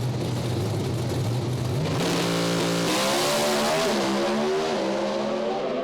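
Pro stock drag race cars launching side by side at a qualifying session, a loud sustained engine roar climbing through stepped gear changes as the cars pull away.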